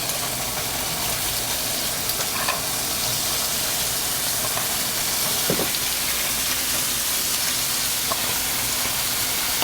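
Ingredients are dropped into a hot pan and sizzle, a steady loud frying hiss that continues throughout, with occasional faint clicks and stirring sounds.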